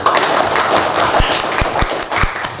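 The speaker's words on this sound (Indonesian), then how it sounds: "Ya, beri tepuk tangan dulu" A class of students applauds in an Indonesian classroom: a continuous patter of many small hands clapping, fairly close, with a few heavier thumps scattered through.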